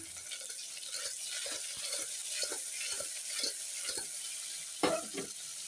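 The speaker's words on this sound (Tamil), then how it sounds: "இது நல்லா வதங்கிட்டுருக்கு" Onion and garlic sauté in a pan, a soft close sizzle broken by light scraping stirs and small clinks of a spoon, fairly quiet and without talk.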